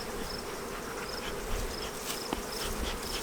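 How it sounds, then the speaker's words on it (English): A dense swarm of honeybees hums steadily at close range around hives being combined, a continuous buzzing drone with occasional louder passes near the microphone and no talking. "A lot of bees right there."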